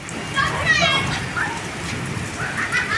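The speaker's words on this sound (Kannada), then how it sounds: "ನೋಡಿ ಫ್ರೆಂಡ್ಸ್ ಮಳೆ ಬರ್ಲಾತ್ತದ ಹುಡುಗರೆಲ್ಲ ಆಡ್ಲಾತ್ತವು" Rain falls steadily in North Karnataka as a group of children play outdoors, a constant patter of drops beneath their lively shouts and chatter.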